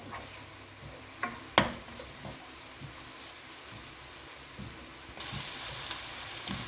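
Onion and tomato frying in oil for mutton biryani make a continuous sizzle with a few stirring knocks, and the hiss swells louder and brighter near the end. No voices are heard.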